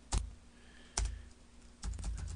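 Computer keyboard typing, a few sparse key clicks and short clusters of taps spaced out over a couple of seconds, close and fairly quiet.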